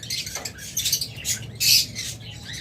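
Large pet birds, a pair kept with eggs, give harsh, raspy squawks and screeches in short bursts, fairly close and loud against a faint background hum.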